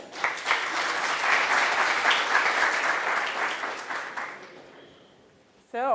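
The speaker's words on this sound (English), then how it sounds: "Welcome, Lizzie. Thank you. Big round of applause," A conference audience at the Agile Greece Summit claps to welcome a speaker, steady moderate applause that tapers off toward the end before a brief sound at the close.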